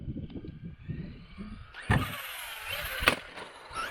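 A brushless two-wheel-drive Traxxas Slash RC car runs toward a ramp in snow, its motor whining up in short bursts with sharp clatters and thumps, moderately close and without talk.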